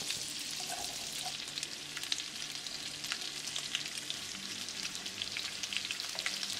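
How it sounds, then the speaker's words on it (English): Garlic sizzling in melted butter in a pan while being stirred, a steady close hiss with faint scraping throughout and no talk. "Cook garlic for 30 seconds."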